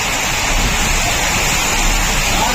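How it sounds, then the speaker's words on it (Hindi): Heavy rain mixed with hail during a sudden storm makes a dense, steady roar of hissing noise that stays loud and even throughout, with no voices. "नीचे आए तो देखे इतनी तेज़ ओले और बारिश, तूफ़ान आ गया एकदम से"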